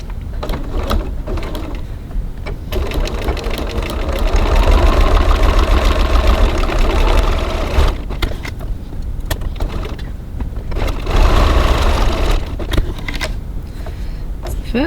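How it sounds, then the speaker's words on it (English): A sewing machine runs in long close bursts while topstitching 3 mm from each long edge of a cross-body bag at a 3.1 stitch length, its rapid mechanical whir with short pauses between runs. "now I'm going to stitch 3mm 1/8 of an inch from each long edge"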